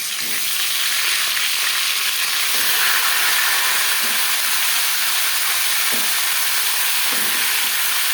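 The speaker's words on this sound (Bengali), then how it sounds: "ডাল সেদ্ধ করে নেওয়া কড়াইতে তেল দিয়েছি। এবার দিয়ে দেব ম্যারিনেট করে রাখা মাছের মাথা।" Loud, steady sizzling of marinated rohu fish heads frying in hot oil in a kadai, a dense continuous crackle with faint scraping taps now and then, close up.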